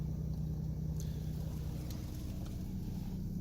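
A 2008 Jeep Cherokee diesel engine idles steadily after starting, a constant low rumble with a harmonic hum and faint ticks, close and alone without talk.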